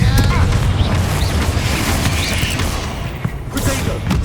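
Explosions from the Confringo fire spell in the video game Hogwarts Legacy, heard as dense, continuous rumbling booms and crackling blasts within loud battle noise, with voices mixed in.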